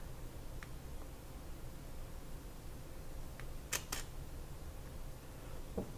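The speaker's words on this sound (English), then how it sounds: "Let's listen to that shutter" A pair of sharp mechanical clicks close together from a Leica SL camera shutter firing, with a few fainter ticks over steady low background hiss.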